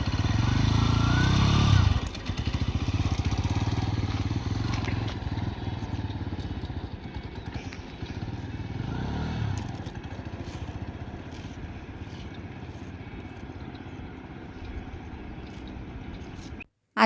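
Motorcycle engine running steadily while riding, loud and close, with wind rush and rattling, revving shifts near the start, then cutting off at the end.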